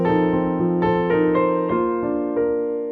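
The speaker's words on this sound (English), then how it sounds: "So a perfect authentic cadence would sound like this" A perfect authentic cadence played on a piano-like instrument, a few chords struck in sequence and ringing out. The sound is close and clear, fades toward the end, and has no talking over it.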